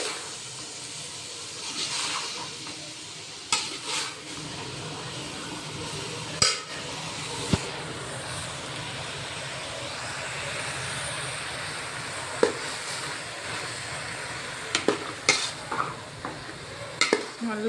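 Tomato and mixed vegetables sauté in a pan for pasta, a steady sizzling hiss with occasional sharp scrapes and taps of a spoon stirring, close and continuous with no talking.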